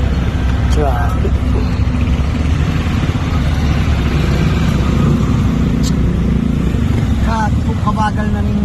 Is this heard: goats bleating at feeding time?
no